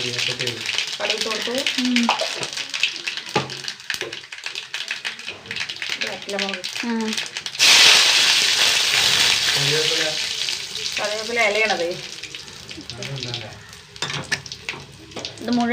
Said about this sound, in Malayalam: ഇനി ഉലുവ പൊട്ടട്ടെ ഇത് മുഴുവൻ